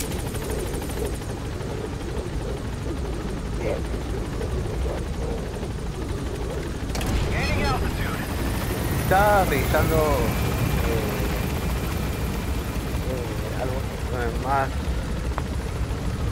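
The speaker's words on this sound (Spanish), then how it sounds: "Tiene un helicóptero práctico." Helicopter from the video game Metal Gear Solid V, a steady rotor drone running continuously beneath intermittent speech and radio chatter, growing slightly louder midway with other game sounds layered in.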